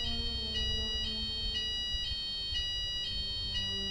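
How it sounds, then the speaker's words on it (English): Fire alarm test sounding, a high electronic tone pulsing in regular beeps about twice per second over a low background hum. "That's a fire alarm test,"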